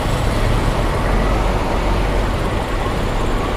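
A Hino-chassis bus with Laksana bodywork, run by the MPM line on a Sumatran road, rumbles past as a broad, steady roar of engine and road noise, loud and close throughout.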